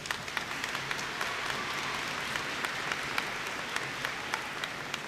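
A crowd applauds at a college commencement ceremony, a steady wash of many hands clapping at moderate volume, fairly distant, continuing unbroken throughout with no voices over it.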